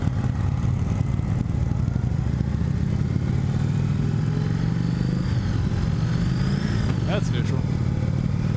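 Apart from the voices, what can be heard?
2017 Indian Chief Vintage motorcycle engine whine while riding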